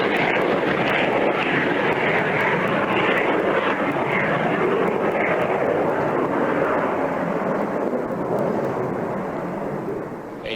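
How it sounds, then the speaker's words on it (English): A Grumman F-14 Tomcat jet roars past in a low-altitude flight demonstration, a loud, sustained broadband rush of engine noise that fades slightly at the end. "Grumman test pilot demonstrated some of the F-14's low-altitude capabilities for His Royal Imperial Highness, the Shah of Iran."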